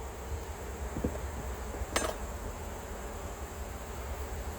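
Low, faint buzzing of honey bees at an opened hive during honey pulling, a steady drone with a couple of brief clicks and a sharp tap midway.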